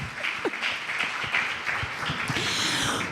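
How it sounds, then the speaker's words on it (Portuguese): Church congregation clapping during a service, scattered and uneven applause with individual claps audible, steady in level across the moment. "Palmas para o Éder,"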